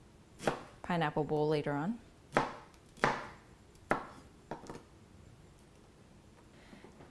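Knife chopping pineapple core into small pieces for Hawaiian garlic shrimp: several sharp, separate cuts spaced about a second apart, close and moderately loud, with a short stretch of talk near the start.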